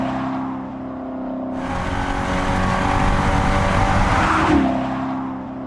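The Fratzonic chambered exhaust on an electric Dodge Charger Daytona SRT concept gives a loud, sustained engine-like roar that swells in intensity, peaks near the end, then eases off.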